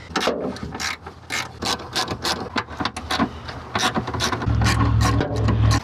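A ratchet loosens 10mm wiper motor bolts on a Honda CR-Z, giving rapid, close metallic clicking in short bursts with brief pauses, then a steadier stretch of ratcheting near the end.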